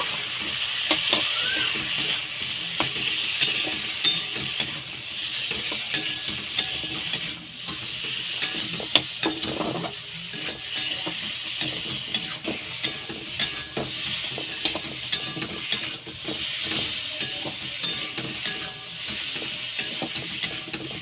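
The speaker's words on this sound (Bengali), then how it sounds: "এইবার ভালো করে নেড়ে নেব" Potatoes coated in turmeric and Kashmiri chili powder fry in a pan while being stirred, a constant close sizzle overlaid with a rhythmic run of spatula scrapes and taps throughout.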